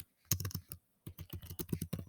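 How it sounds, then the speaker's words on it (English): Quick keystrokes on a computer keyboard, close and crisp, arrive in two short bursts separated by a brief pause, with no talking. "I'm having trouble typing today"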